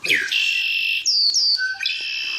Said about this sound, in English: That's a red-winged blackbird.